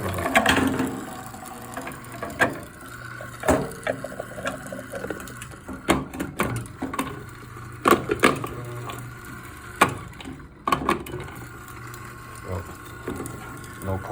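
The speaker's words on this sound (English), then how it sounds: "I'm assuming that this is the way to adjust the coarseness of the grind" The coarseness setting on a Eureka Mignon Brew Pro coffee grinder is adjusted, giving close, intermittent mechanical clicks and ratcheting taps over a low background hum.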